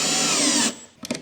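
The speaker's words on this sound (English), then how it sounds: "blast it from the bottom and hold the drill very awkwardly while you do it" A power drill drives a nut onto a CJM rear diffuser on a GLI, a loud close whir running steadily and then cutting off, followed by a few light clicks.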